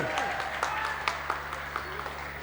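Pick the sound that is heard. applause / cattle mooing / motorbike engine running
applause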